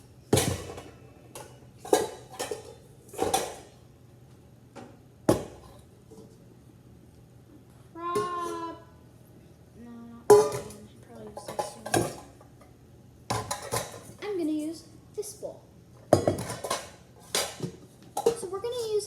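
A medium-sized mixing bowl being taken out for chocolate chip cookie dough, heard as sharp clinks and clatters of bowls and utensils, with people talking between and over the knocks.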